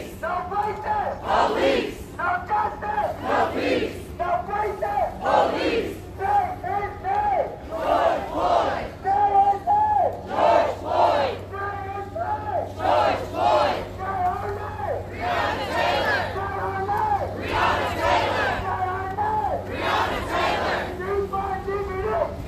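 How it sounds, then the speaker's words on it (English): Protest crowd at a police brutality demonstration in Dallas chanting in loud, rhythmic bursts, the same shouted phrase repeating every couple of seconds from many voices at once, with some background murmur between chants. "Crowd is now chanting"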